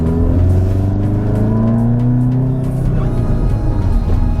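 A 560bhp Golf R engine revving loud and close, a sustained droning roar whose pitch rises and falls gently over several seconds.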